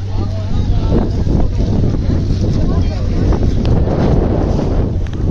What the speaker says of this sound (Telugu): మన బోట్ స్టార్ట్ అయింది, ఊగుతుంది.